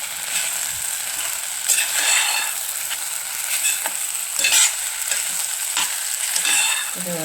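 Rice with green peas sizzles steadily in a hot pan for masale bhat while a spoon stirs and scrapes through it in irregular strokes, close and clear with no talking.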